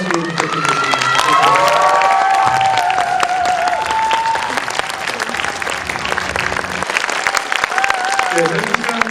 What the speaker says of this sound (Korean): 많은 박수 부탁드리겠습니다.